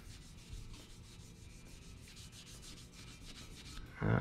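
Sandpaper is rubbed by hand against a metal crankshaft journal in steady, repeated back-and-forth strokes, close and fairly quiet, ending in a louder scrape.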